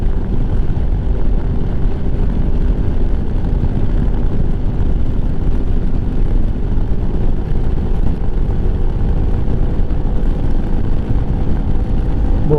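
A 2023 Lifan KPM 200 motorcycle cruises in sixth gear, a loud, steady engine drone mixed with wind rush throughout, unbroken and close.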